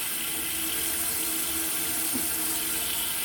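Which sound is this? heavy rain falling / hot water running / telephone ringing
hot water running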